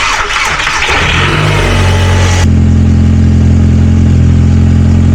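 A VW Golf GTI engine is started up, cranking and catching before settling into a loud, steady idle with a deep rumble close by.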